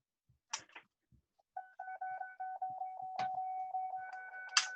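Apple Newton handheld giving a steady, repeating electronic beep at a meetup, looping on like an alarm for several seconds, with a few brief sounds of handling before it starts.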